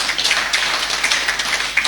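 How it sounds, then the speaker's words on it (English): Brief burst of audience applause at the launch event for Liberia's National Mangrove Inventory Report, dense crisp clapping from a modest crowd, steady and close for a couple of seconds. "Let's give him a very big hand of applause"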